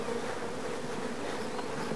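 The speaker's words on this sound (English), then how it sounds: "One dragging off a dead bee." Honey bees buzz steadily at a nuc hive, a close, continuous humming drone with no talk.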